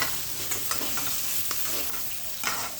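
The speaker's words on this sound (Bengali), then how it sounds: "দিয়ে হালকা একটু নাড়াচাড়া করবো" Salt and ready-made roast masala sizzle in oil in a frying pan as a utensil stirs them with a few distinct scraping strokes, close and continuous.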